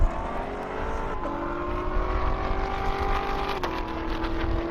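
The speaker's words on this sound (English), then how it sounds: "Hard to beat that Tesla launch." A Tesla launches beside a Corvette in a half-mile drag race on an airport runway, a steady loud motor whine and tire roar that holds near and continuous, with rising tonal sweeps as it pulls away.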